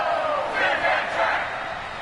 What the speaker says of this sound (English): the crowd is ready for action